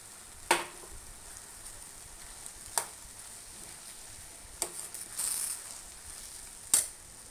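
Soya keema masala frying in a pan, a soft steady sizzle broken by a few sharp clinks and scrapes of stirring, with a brief hiss midway; no talking.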